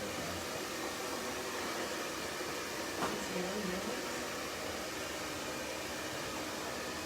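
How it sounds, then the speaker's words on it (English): A hair dryer blows with a steady, loud rushing hiss throughout, its even airflow noise filling the space without pause. "It's a loud blow dryer."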